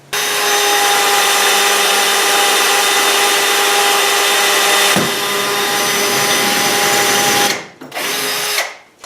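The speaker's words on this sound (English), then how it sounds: "it's recommended that you use a hammer drill for this, like this one" A loud, close hammer drill boring into masonry runs continuously with a high whine and grinding, dips briefly midway, then cuts off and restarts in short bursts.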